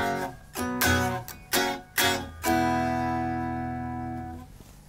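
A guitar strums a few chords from a 3/4 bar in the verse of a song. The last chord rings out and fades slowly, with no voice over it.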